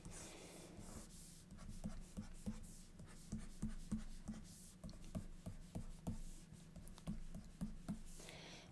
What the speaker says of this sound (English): let me draw another graph.